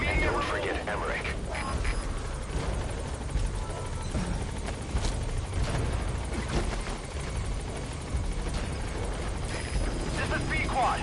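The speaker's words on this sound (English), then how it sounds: "Alright, the chopper's touching down." Helicopter from Metal Gear Solid V touching down at a landing zone, a steady loud rotor and engine roar with dense broadband wash throughout, with voices talking over it.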